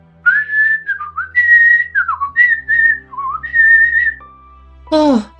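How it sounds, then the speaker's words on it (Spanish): A footman character whistles a meandering tune of sustained and sliding notes, close and clear over a faint background hum, ending with a brief voiced sound. "dijo el lacayo y empezó a silbar"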